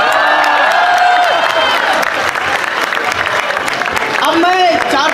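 An audience applauds and cheers at an Independence Day speech, with sustained loud clapping and scattered whoops from a large crowd, steady throughout.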